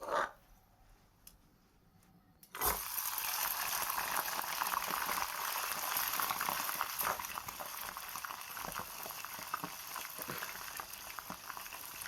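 Onion rings frying in oil that is too hot, in a video game kitchen: after a couple of quiet seconds a loud, dense sizzle bursts in abruptly and keeps crackling steadily to the end.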